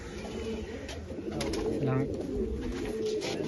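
Pigeons coo softly at a pigeon loft, a low throaty murmur that runs under people talking nearby.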